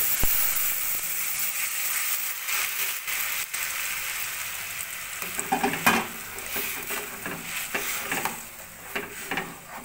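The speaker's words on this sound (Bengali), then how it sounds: "রসুন আর আদাটা একটু মোটামুটি ফ্রাই হয়ে গেছে। এবার আমি ওই ছাঁকনিতে যেটা ছেঁকেছি ওই টমেটোটা," Strained tomato pulp poured into a pan of frying garlic and ginger, sizzling steadily with stirring scrapes and a few louder bursts, close and alone.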